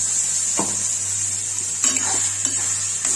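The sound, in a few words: frying ground tomato and spices for rajma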